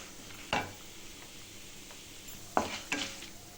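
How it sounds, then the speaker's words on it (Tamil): Urad dal and chana dal sauté in a pan for rava upma with a soft, low sizzle, punctuated by three sharp spoon scrapes. "அடுத்தது கடலைப்பருப்பு எல்லாத்தையும் சேர்த்து நல்லா வதக்கிடலாம்."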